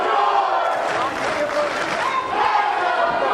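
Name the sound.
wrestling crowd reacting at convention center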